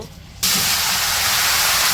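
Vegetables drop into hot oil in a kadai and burst into a loud, steady, hissing sizzle that continues without a break.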